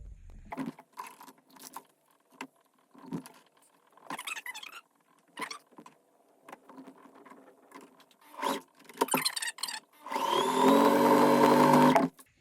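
Sewing machine stitching a hoodie fabric seam, heard as a closing sustained whirring run after scattered handling rustles and taps of the fabric.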